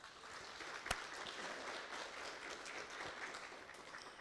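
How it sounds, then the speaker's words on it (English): Faint applause from a convention audience at the Actuarial Society of Zimbabwe annual gathering, a soft continuous patter of many hands with one sharper bang early on, distant and steady. "please help me give a round of applause to the ASZ for such an organized convention"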